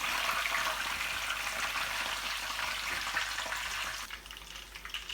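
Curry leaves and green chilies frying in hot oil for paneer 65, a steady loud sizzle and crackle close up that eases off slightly toward the end.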